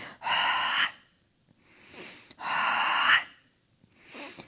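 Deep, forceful breaths during a bridge workout for the hips and spine, with two long exhales each followed by a softer inhale, close and slow, with no talking.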